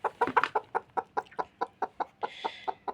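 A hen clucks in a quick, steady series of close, loud pulses while she is settled back onto a clutch of chicken and duck eggs being hatched.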